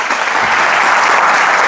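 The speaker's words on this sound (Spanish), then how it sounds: "os pido un aplauso para Álvaro y muchas gracias." Loud, dense applause fills a small science talk venue as an audience claps for a speaker at a club's micro-talk event, sustained and even throughout with no voices.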